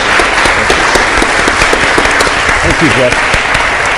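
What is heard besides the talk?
audience applause after election debate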